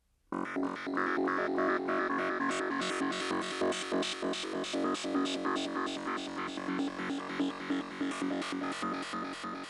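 A bright synth lead plays rapid repeated notes through a dotted-eighth ping-pong delay, echoes bouncing back and forth, a steady rhythmic pattern running for several seconds.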